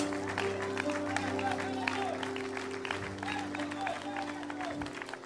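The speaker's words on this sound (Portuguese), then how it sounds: "Pode aplaudir o Senhor Jesus?" Congregational applause in a Portuguese-speaking church service, steady crowd clapping running the full length beneath a sustained keyboard or organ tone, with voices mixed in.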